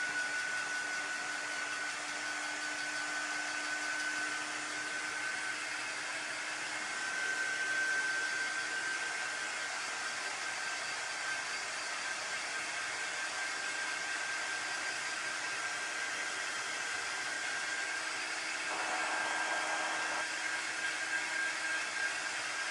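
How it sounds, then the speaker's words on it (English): A handheld hair dryer blows steadily at close range over shimmer chalk paste on a small acrylic dollar-store item, a continuous loud whir with no talking. "We're just going to hit it real quick with the dryer because it's almost dry."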